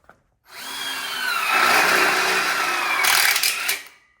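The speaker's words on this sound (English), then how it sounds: "Now we're going to go ahead and screw the catcher track on here." A power drill drives a screw to fasten catcher track onto a metal outdoor kitchen counter frame kit, one loud whirring run of about four seconds that rises in pitch and stops abruptly, close up.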